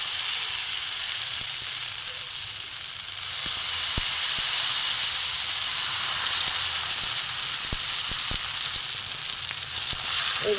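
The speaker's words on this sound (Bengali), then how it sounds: "গ্যাস কমিয়ে কমিয়ে আস্তে আস্তে ভাজতে হবে।" An egg and potato paratha fries in a small amount of brushed oil over low heat, giving off a steady, close sizzle with a few faint scrapes and light taps, and nobody speaks.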